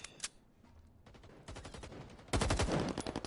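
Shooter game firefight with bursts of rapid gunfire and grenade blasts, sparse shots at first and then dense, loud volleys near the end, with no talking.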